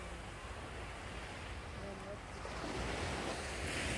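Sea waves roll onto Haeundae beach in Busan at night, a soft, constant wash of surf with wind rumbling on the microphone, swelling a little louder toward the end.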